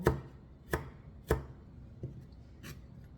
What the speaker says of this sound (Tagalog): Tapos itong ating kamatis, iwain din natin siya ng small.